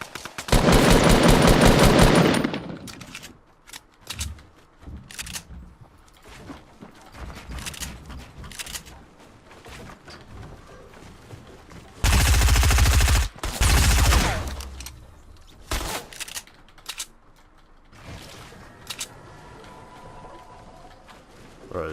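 Sub-machine gun fire in a video game: a long loud burst opening, scattered shorter shots and clicks through the middle, then another heavy sustained burst, with quieter game sounds between.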